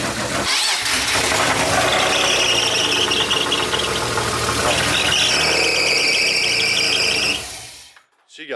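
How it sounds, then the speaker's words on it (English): Mercedes engine idling with a squeaky belt, a steady loud rumble with high squealing chirps repeating over it, running continuously before cutting off near the end. "She got a squeaky ass belt."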